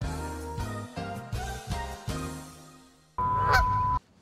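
Goose honks as a sound effect, a series of loud, nasal honks in quick succession followed by a brief harsh squeal, close and alone without speech.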